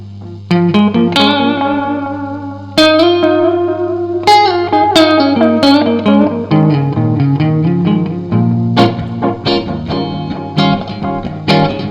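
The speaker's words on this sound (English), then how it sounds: "let's knock on just some spring reverb and see how that sounds." Electric guitar played through a Keeley Caverns V2 pedal set to spring reverb: strummed chords and picked single notes ring out loudly, each attack followed by a splashy, bouncing reverb tail that blurs into the next phrase.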